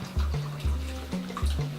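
Boiling water poured over grated laundry soap in a steady, gurgling stream, audible as a couple of close, fairly loud pours that rise and stop with no talk over them.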